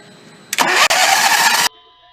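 A small engine is cranked over by its starter, a loud close whirring burst of about a second that cuts off abruptly, leaving a quiet hum behind.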